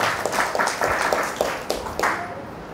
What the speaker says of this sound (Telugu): చప్పట్లు కూడా చెప్పచ్చు